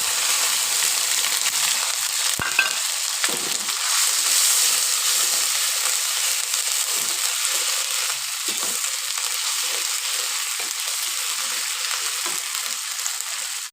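Onion and garlic paste frying in a pan for a kachki fish curry with eggplant and tomato: a steady, close hiss of sizzling, with a few soft stirring knocks scattered throughout and no voices.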